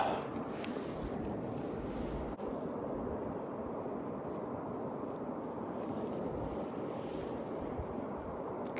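Strong wind and current buffet a kayak on the Mississippi River during spring walleye fishing, a steady, loud, broadband rush of wind across the microphone with water noise beneath, continuous for the whole stretch and no talking.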